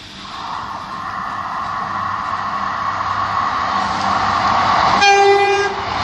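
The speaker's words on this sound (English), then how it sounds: "It should be two Class 158 Super Sprinters." A Class 158 Super Sprinter diesel train rumbles past with a steady, building engine drone, ending in a loud two-tone horn blast near the close.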